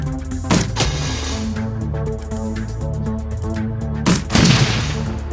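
Gunfire from the Shadowrun Dragonfall video game rings out in two loud bursts, one near the start and one near the end, over a steady droning music bed.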